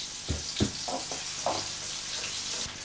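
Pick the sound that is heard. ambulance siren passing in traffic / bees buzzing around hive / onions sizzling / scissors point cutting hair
onions sizzling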